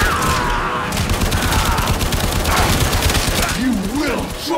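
Gunfire in the video game Warframe, a dense rapid stream of shots running throughout under someone talking, loud and continuous.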